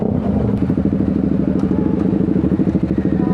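A group of motorcycles idling and pulling away on a ride to Daang Kalikasan in Mangatarem, Pangasinan: a loud, close, continuous engine rumble with a rapid throbbing pulse.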